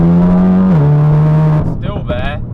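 Stage 3 VW Golf R making over 500 bhp pulls hard in third gear, its engine note a loud, steady, close drone that rises then shifts, followed by a rougher, grumbling tail.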